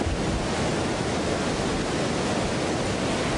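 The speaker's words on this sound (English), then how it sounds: "You can see that the falls are really just roaring." A steady, dense roar of rushing water fills the clip without a break, loud and close, like heavy falls pouring continuously: the Reedy River falls at Falls Park, Greenville County, running high.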